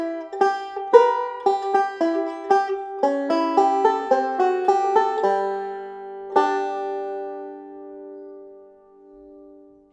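A banjo plays a picked phrase in an alternating thumb roll, a quick run of bright plucked notes ending in a ringing pinch that fades out, solo and clear.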